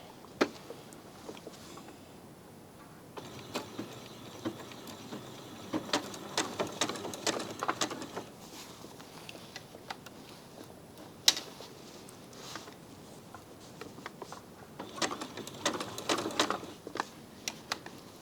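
A sewing machine runs a zigzag stitch on a quilt-as-you-go project in stop-start bursts of rapid mechanical chatter, pausing briefly between runs.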